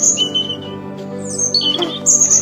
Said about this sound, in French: Le rouge-gorge va se mettre à chanter.